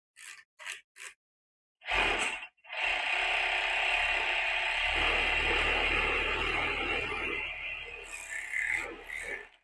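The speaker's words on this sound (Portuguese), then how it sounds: "Eu prefiro dar mais um apertinho aqui no overlock para não aparecer o ponto" An overlock sewing machine stitches sweatshirt fleece. A few short mechanical bursts come first, then a sustained close whirring run that eases off toward the end, with no voices.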